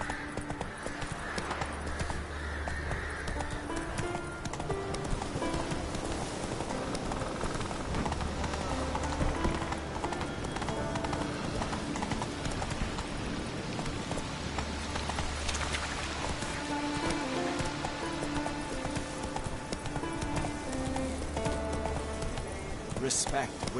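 Roach, the horse from the video game The Witcher 3, gallops with steady clip-clop hoofbeats over a busy game soundscape of music and ambience, with voices talking at times.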